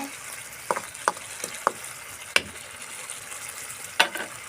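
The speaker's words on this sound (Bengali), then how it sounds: "ছোটো মাছ চচ্চড়ি একটু নাড়াচাড়া করে দিয়ে সুন্দরভাবে নাড়াচাড়া করে দিয়ে ভালোভাবে" Small fish chochchori frying in a pan gives a low, soft sizzle, broken by several sharp utensil scrapes and knocks as it is stirred at an irregular pace. No one speaks.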